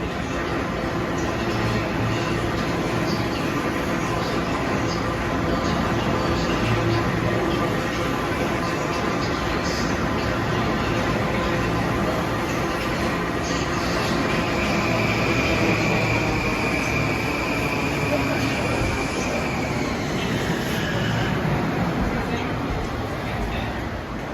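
A Long Island Rail Road train rolls into Grand Central's track 303, a steady loud rumble of wheels and cars with a faint high whine rising mid-way, continuous throughout with no break.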